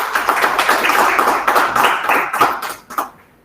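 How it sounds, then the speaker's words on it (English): Applause from an audience in the Great Room at the Royal Society of Arts in London, a dense steady patter of many hands clapping that thins out and fades to a few last claps near the end. "a big round of applause for this particular achievement of Sir"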